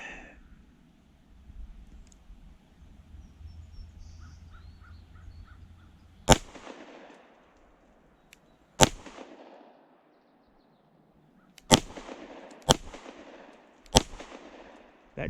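Five sharp, loud pistol shots from a CZ Shadow 2 Compact firing Winchester 115-grain Silver Tip hollow-point defense rounds, spaced irregularly and each trailing a brief echo, after a quieter stretch of outdoor range noise.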